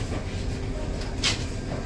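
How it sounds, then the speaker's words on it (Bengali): Vande Bharat Express departing Varanasi Junction in the early morning, a steady low rumble of the moving train with a brief brighter hiss or clatter midway, continuous and fairly close, no talk. "একদম সঠিক সময়েই ট্রেনটা বারাণসী জংশন স্টেশন থেকে ছাড়লো"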